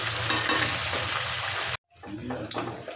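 Chicken pieces fry in hot oil in a kadai while being stirred, giving a loud, steady sizzle with scraping that cuts out abruptly for a moment, then returns more quietly with clinks of the spatula.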